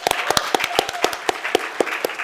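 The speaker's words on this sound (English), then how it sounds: "So I want a big clap for her." A small group claps for a staff member at a college programme launch event, with distinct, evenly spaced claps at a steady rhythm for about two seconds.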